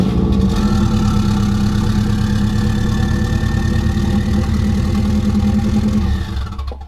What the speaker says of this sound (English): Let's do a first cold startup